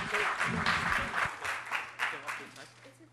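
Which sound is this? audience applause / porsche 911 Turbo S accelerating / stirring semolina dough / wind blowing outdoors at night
audience applause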